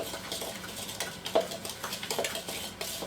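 A Swedish dough whisk working chocolate chip cookie dough in a bowl for cookie brownie bars gives a run of close, rhythmic scraping knocks and clinks, steady and fairly loud, with no talk.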